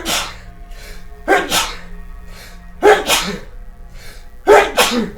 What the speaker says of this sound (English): I could sneeze a lot more.